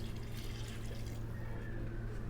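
Two cups of water poured into a cooking pot of mutton and tinda, a steady close liquid rush filling the pot for a couple of seconds, alone without talk.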